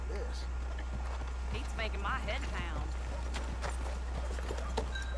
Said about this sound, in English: Here come the horses.